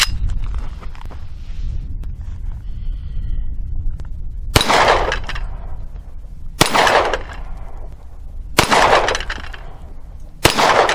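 A Hi-Point .45 pistol fires four sharp, loud shots one-handed at targets outdoors, spaced about two seconds apart, each a sudden crack with a brief ringing tail over quiet background.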